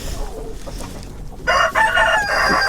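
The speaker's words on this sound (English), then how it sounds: "He's one of our big roosters in here." A big Frizzle Silky rooster crows loudly and close by, after a stretch of quieter clucking and coop noise on a homestead.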